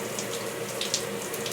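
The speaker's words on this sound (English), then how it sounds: "And the water is coming out this hole." Water rushes steadily from a new shower head, a continuous hissing spray at close range, with no talk.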